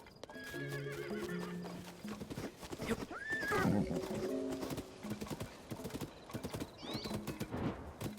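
A horse galloping in the video game Tears of the Kingdom, with clip-clop hoofbeats, a clear neigh midway and game music underneath, fairly close and steady.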